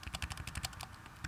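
Keys pressed on a backlit Apple Mac laptop keyboard: a quick, close run of about ten crisp plastic clicks in fairly even rhythm, with no talking.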